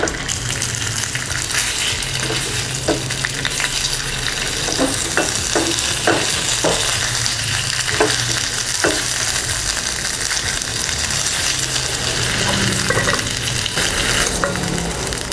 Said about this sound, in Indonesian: Mari kita coba menggorengnya.